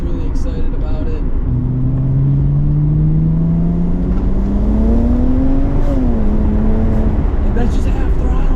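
BMW 335i with a VRSF intercooler and raised boost accelerating at half throttle, a loud, steady engine note climbing in pitch for several seconds, then dipping briefly at a shift before holding on, with road and wind noise throughout.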